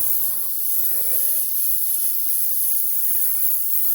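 A steady, constant hiss of an airbrush spraying candy paint onto a miniature car hood runs throughout, loud and unbroken, with no voices.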